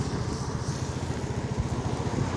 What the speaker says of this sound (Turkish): motosikletle yolculuk yapıyorum